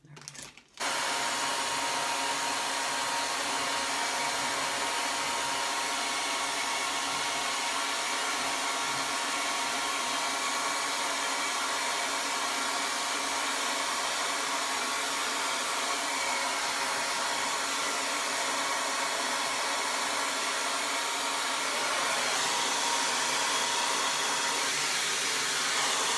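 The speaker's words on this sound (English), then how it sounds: "Just a couple of more blow dries, and that's a pretty done haircut." A hair dryer blows steadily at close range while a pixie haircut is dried and styled at home, a loud unbroken whoosh starting after a brief click and running on alone.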